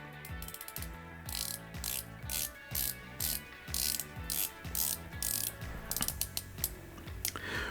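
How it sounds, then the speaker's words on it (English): Rotating bezel on an About Vintage 1926 At'Sea green turtle dive watch being turned, giving close, crisp ratcheting clicks in short repeated bursts, quiet and alone. "Let's listen to the bezel action,"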